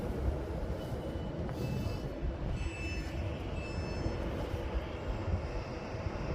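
An Avanti West Coast Class 390 train pulls out of the station toward Birmingham New Street, a low, fairly faint rumble with a thin whine and soft hiss running throughout.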